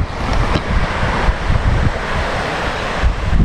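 Surf and strong wind at a kitesurfing beach, a steady loud roar of breaking waves with wind buffeting the microphone throughout, no voices.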